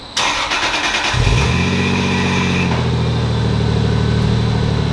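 A 2JZ engine in a Toyota Supra JZA80 fitted with a Link plug-in ECU cranks briefly, fires up with a loud rev, then settles into a steady rough idle close to the microphone.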